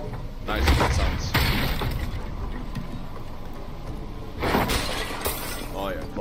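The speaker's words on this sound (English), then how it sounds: "I'm still amazed at the level of detail left for the breakables in Diablo 4." Breakable objects shatter in the video game Diablo 4: two loud crashing, splintering bursts about four seconds apart, heard beneath someone talking over the game's ambient sound.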